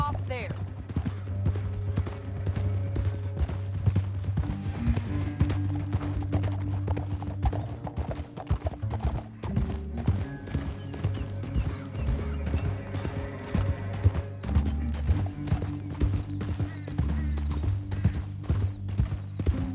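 Horse hooves clop in a steady, continuous gait while riding in Red Dead Redemption 2, running under low music and game ambience for the full stretch, with no voices heard.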